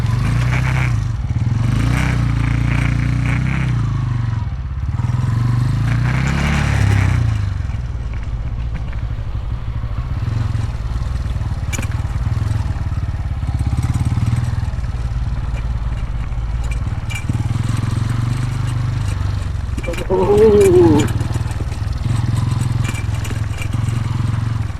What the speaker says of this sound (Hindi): अब इसमें किधर से निकलेगी बाइक,